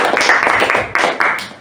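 A class applauds a group for a correct answer during an Islamic studies lesson on sujud, with loud, close hand clapping that swells in rhythmic bursts.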